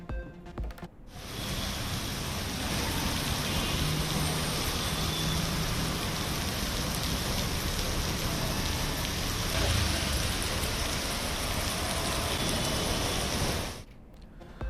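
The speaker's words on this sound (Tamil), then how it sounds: "சென்னையில் பெய்த திடீர் கனமழையால் வாகன ஓட்டிகள், பொதுமக்கள் அவதி." Sudden heavy rain in Chennai pours down steadily as a dense, loud hiss of drops on surfaces, with faint vehicle traffic blended underneath. The downpour holds almost unbroken for about thirteen seconds before cutting off.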